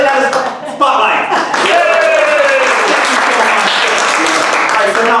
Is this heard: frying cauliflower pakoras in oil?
no